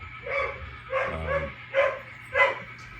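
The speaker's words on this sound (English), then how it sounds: "He's a yellow lab." Yellow Labrador barking indoors, four or five short, moderately loud woofs and yips spaced about half a second apart, close to the microphone with a faint low hum beneath.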